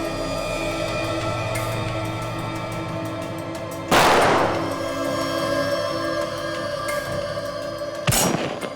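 Two loud, sharp gunshot bursts, slowed down and reverberant, ring out from a robbery in security footage, separated by about four seconds over a steady droning hum.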